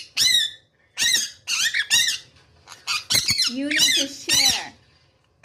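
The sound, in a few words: conure parrot squawking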